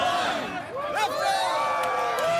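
A crowd gathered outdoors on Elgin Street outside the NAC to watch the Artemis 2 liftoff cheers and whoops, with many overlapping shouting voices swelling together at close range.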